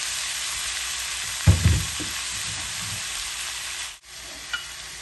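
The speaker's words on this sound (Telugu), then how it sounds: "ఇందాక నేను కడిగి పెట్టుకున్న అటుకులు వేస్తున్నాను." Washed poha (flattened rice) drops into a hot pan for atukula upma, a short close burst of sizzling and stirring over a steady frying hiss, then a small clink.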